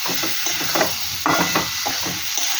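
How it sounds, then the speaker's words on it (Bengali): Onions stirred and sautéed in a pan with cumin for a Bengali fish curry, giving a steady close sizzle broken by scraping strokes of the spoon, with no voices. "আমি পেঁয়াজগুলোটাও দিয়ে দেবো। ভালো করে নাড়বো"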